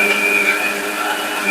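An electric mixer grinds coconut, roasted spices and onion for a masala, a loud, steady whirring drone that cuts off abruptly at the end.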